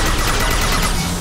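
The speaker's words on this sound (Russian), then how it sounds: "Стрельба." Gunfire in the Mass Effect 2 video game during a prison combat level, a dense continuous burst of rapid shots filling the whole moment, loud and close.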